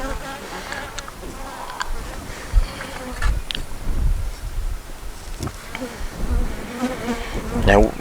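Honey bees buzzing steadily around a hive full of brood, with a worker bringing in pollen; individual bees drone past close by, rising and fading over a constant hum.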